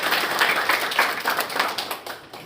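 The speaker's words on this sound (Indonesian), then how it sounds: "Tepuk tangan untuk kita semua." A burst of brisk hand clapping from a small group, crisp and fairly close, lasting a couple of seconds.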